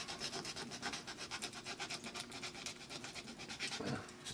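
Bondo filler putty being spread and worked over the hull of an AMT 1/537 USS Enterprise NCC-1701-A model kit, a close, steady rhythmic rubbing and scraping that repeats continuously with no talk.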